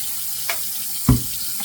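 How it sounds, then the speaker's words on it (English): Water running from a tap at a bathroom sink before shaving, a steady close hiss with a splash as water is scooped onto the face. "I'm going to put a little bit of water on my face."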